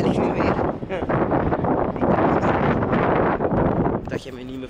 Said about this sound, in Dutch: Ja, dat is een wind.